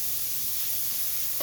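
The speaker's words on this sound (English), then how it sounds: "You just want to saute that on medium so the veggies get translucent and a little soft." Vegetables sauté in a pan on medium heat for spaghetti sauce. A steady, close sizzle holds throughout, with a brief stir or clink right at the end.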